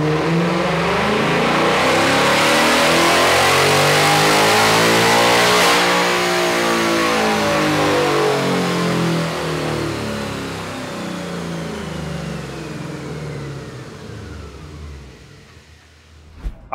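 A 2024 Ford Mustang GT V8 with a K&N intake runs a wide-open pull on a dyno, the engine climbing steadily in pitch to a loud high-rpm roar, then easing off and winding down alone.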